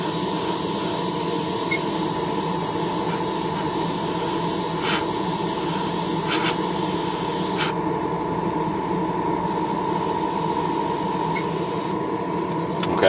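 An airbrush spraying a two-to-one mix of Future floor polish and flat base onto a Honda scale model engine part, a continuous close airy hiss that runs steadily for the whole stretch with slight shifts in tone.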